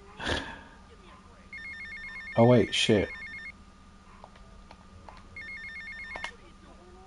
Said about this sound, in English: Another phone call.